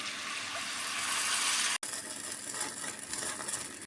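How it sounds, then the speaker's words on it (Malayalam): Tamarind water poured into ginger curry in a pan, a loud close hiss and splash for about two seconds, then a softer bubbling sizzle. "ഇതിലേക്ക് നമുക്കിനി പുളിവെള്ളം ഒഴിച്ച് കൊടുക്കാം"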